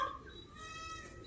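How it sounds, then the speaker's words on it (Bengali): Peacock calling at a farm where exotic birds and poultry are kept, a short, high, nasal wail with stacked harmonic bands over about a second, fairly clear against a quiet background. "ময়ূর পাখির ডাকটা দেখেন"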